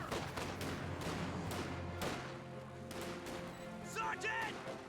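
Scattered rifle and small-arms fire from soldiers in Company of Heroes 2, sharp cracks popping at irregular intervals over a steady battle rumble, with a voice talking throughout.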